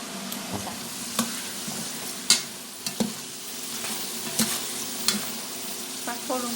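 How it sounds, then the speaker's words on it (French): Razor clams with persillade sizzle in a hot pan over high heat while being stirred constantly, a steady close frying hiss broken by sharp clacks and scrapes of the utensil against the pan. "Pas trop longtemps pour faire dorer complètement. Toujours remuer sans arrêt."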